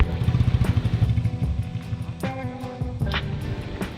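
A motorcycle engine putters and hums steadily while riding a forest road past areca plantations near Sirsi, with pulsing low rumble and a few gear shifts, close and fairly loud.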